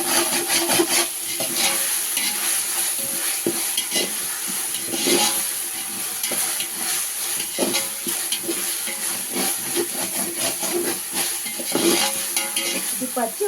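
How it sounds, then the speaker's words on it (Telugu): Chicken biryani ingredients with curry leaves are stirred and mixed in a pot, a steady close-up rhythm of scraping and rubbing strokes over a soft frying sizzle. "వేసుకున్నాక ఇది బాగా కలుపుకోవాలండి"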